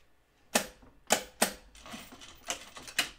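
Big, clunky sewing scissors cut through dress fabric in a quiet room, giving about six sharp, separate snips spaced roughly half a second apart with no talking.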